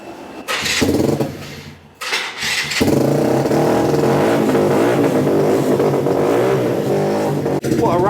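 A motorbike engine revs close by at a classic car gathering, with short loud blips that settle into a sustained, rough, throaty roar.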